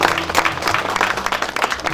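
Mourners at a village burial ceremony for a martyr's mother clap together, a dense, close round of applause that stays loud and continuous throughout.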